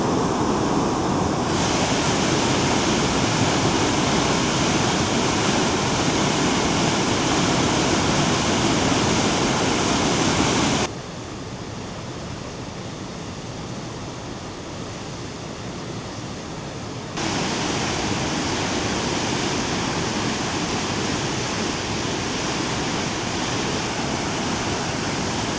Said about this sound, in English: Well, you can really see it flowing over the falls up there.